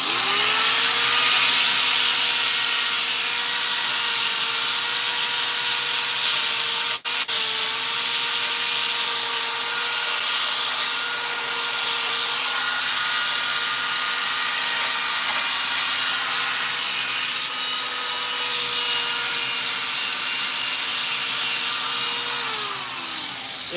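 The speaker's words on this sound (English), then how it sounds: "is a Makita finger sander." A Makita finger sander hums and whirs in one long, loud, unbroken run while sanding a black walnut heron carving, its high motor whine dropping away only at the very end.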